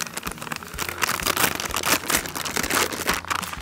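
Cryovac plastic packaging on a brisket being cut open, with close, irregular crinkling and rustling bursts of stiff plastic and knife scrapes over a few seconds.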